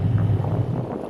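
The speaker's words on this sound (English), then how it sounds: "There's the wind." Morning wind blowing over open water aboard a sailing boat, a brief steady rumble of gusts buffeting the microphone with no talk.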